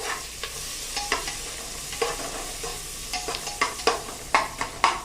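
Onion being sautéed in a pan for Khandeshi masala khichdi, with a soft continuous sizzle under repeated sharp scraping strokes of a spatula that come in irregular bursts and grow louder toward the end.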